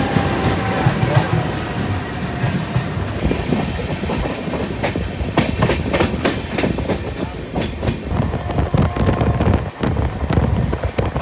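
A passenger train runs at night, with a loud continuous rumble, rhythmic clickety-clack of the wheels and wind buffeting the microphone, heard from on board.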